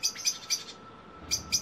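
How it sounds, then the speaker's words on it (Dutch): Blackbirds scolding a sparrowhawk that holds prey in a garden in Rockanje, giving sharp, repeated alarm calls in irregular bursts, fairly close and loud, with short pauses between volleys. "Je hoort heftig de merels alarmeren, omdat hier een sperwer een jong te pakken heeft."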